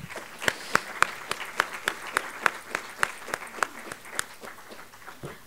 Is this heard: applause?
yes